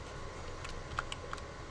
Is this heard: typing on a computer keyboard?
yes